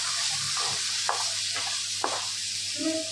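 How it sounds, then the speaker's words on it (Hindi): Tomatoes with turmeric and salt frying in a pan over low to medium flame, steady sizzle with several sharp scraping stirs of a spoon, close up, no talking. "अभी थोड़ा सा मैंने फ्राई हल्का सा मिक्स ही किया है"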